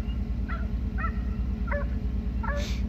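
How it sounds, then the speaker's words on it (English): Hunting hounds chasing coyotes bay and yip from a distance, several short cries spaced about half a second apart over a constant low rumble. "May the sounds of hounds never die."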